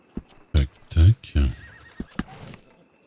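A horse gives several close, loud whinnies in quick bursts, with a hoof clop or two and a faint tone in the background.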